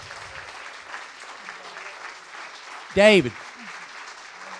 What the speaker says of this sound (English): How about a big round of applause for everybody?